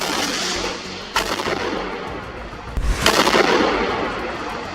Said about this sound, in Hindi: जिस पर सामने से एक बम या रॉकेट आकर गिरता है, जिसमें जोरदार धमाका होता है।